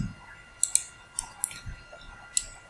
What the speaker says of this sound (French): je clique ici et je clique deux fois ici